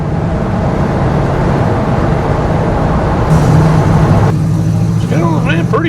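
An old truck's engine runs steadily close by with a loud, constant rumble, and someone speaks over it toward the end.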